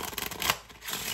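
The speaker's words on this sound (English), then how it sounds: "So I would start this one off by having my spectator give the deck a shuffle." A deck of playing cards is shuffled, a quick papery riffle of flicking cards rising to a brief louder burst, close and alone.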